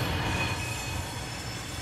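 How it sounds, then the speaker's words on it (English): A three-car diesel train in the Terminal Railways video game rumbles steadily as it departs a depot, its engine a low continuous drone under a broad wash of rolling rail noise. "Listen to that beautiful diesel engine in the background."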